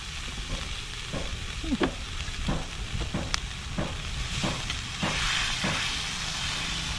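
Food sizzles hard in a pan over a strong flame while an adobo-style dish without vinegar cooks. A steady frying hiss runs throughout, broken by repeated scraping and clinking strokes of a spatula stirring, close and loud with no voices.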